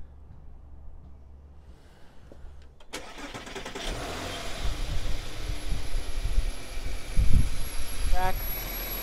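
A 2008 Audi Q7 engine cranks and starts, then runs at a steady idle with the air conditioning on. A continuous mid-range hum with a faint high whine comes from close by, and no one speaks.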